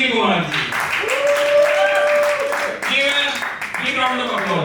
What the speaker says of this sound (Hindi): Big round of applause. जोरदार तालियां हो जाए।